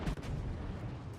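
Ship guns in the naval combat game World of Warships fire high-explosive shells, a deep booming blast at the start followed by a rumbling tail, fairly quiet and brief.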